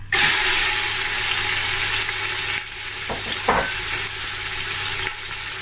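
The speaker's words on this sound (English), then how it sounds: "So I'm going to be frying this until it turns golden brown." Loud, steady sizzling of chicken breast frying in hot olive oil, with a short clatter partway through.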